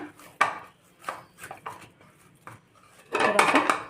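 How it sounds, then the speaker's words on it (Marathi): Poha chakli dough being kneaded with a little oil in a metal bowl or pan, giving close, irregular knocks and scraping clatter, with a louder burst of rubbing and clatter near the end. "थोडंसं तेल टाकूनही आपण याला मळून घेणार आहोत"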